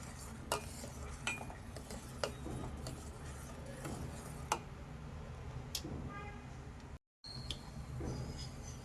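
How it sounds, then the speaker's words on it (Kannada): A spoon stirs sugar into milk in a pot on the stove, giving soft, irregular clinks and scrapes against the metal with a steady low background hum and no talking. "ಚೆನ್ನಾಗಿ ಮಿಕ್ಸ್ ಮಾಡಿ ಇದನ್ನು. ಸಕ್ಕರೆ ಕಂಪ್ಲೀಟಾಗಿ ಹಾಲಿನ ಜೊತೆ ಕರಗಬೇಕು."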